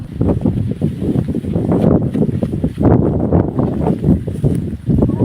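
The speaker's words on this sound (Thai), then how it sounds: "เอต้นหญ้าต้องลม" Wind gusting steadily across an open grassy field beside rice paddies, a continuous broadband rush that swells and eases in waves, close and fairly loud against the microphone, with no voices.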